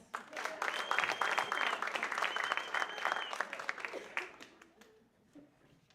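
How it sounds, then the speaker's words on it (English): Audience of middle school students clapping at a STEAM symposium, a steady burst of applause with a whistle over it, tapering off near the end. "Clap it up for us"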